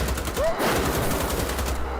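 Assault rifle fire in Wolfenstein: The Old Blood comes as a rapid, steady stream of close, loud automatic shots running through the whole stretch, with little else audible.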